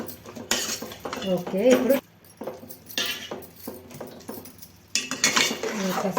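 Metal spoon clinks and scrapes against a pot as tomato goes into a simmering rasam, in short bursts under a woman's speech in Telugu.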